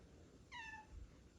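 A house cat gives a single short, fairly faint meow indoors, alone, with no voices over it.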